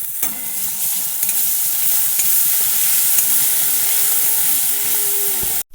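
Spices with ginger-garlic paste, turmeric, chilli powder and salt frying in a pan for aloo chop, a continuous loud sizzle with soft stirring scrapes throughout and a brief tonal whine near the end.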